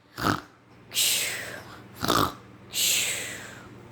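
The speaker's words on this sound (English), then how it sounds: "Soon he was fast asleep and snoring loudly." Loud snoring close up: two long cycles, each a rough, rattling inhale followed by a breathy, hissing exhale, repeated in a slow rhythm.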